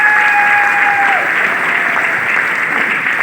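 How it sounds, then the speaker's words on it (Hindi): An audience applauds at a motivational business seminar as a speaker is introduced, a dense, steady roar of many hands clapping close by and continuing unbroken throughout. "जोरदार तालियां दीजिए।"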